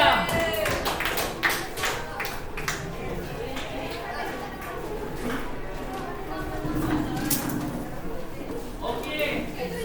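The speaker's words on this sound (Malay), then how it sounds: "Berikan tepukan kepada kumpulan logam." A secondary school class applauds a student group: a burst of scattered clapping from many hands, mixed with chatter and a teacher's voice talking over it, then fading into room murmur.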